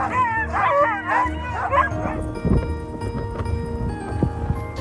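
Female Husky sled dogs bark and yip excitedly before a dog-sledding run in Finnish Lapland, a close, loud burst of overlapping barks and howls that fades into quieter rustling and thumps.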